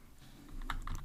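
Quick typing on a computer keyboard while coding an Android layout, a short burst of close, crisp key clicks with no talking.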